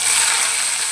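Cumin seeds sizzle in hot oil in a kadai, a steady bright crackling hiss that stays close and constant for a brief moment, with no voices.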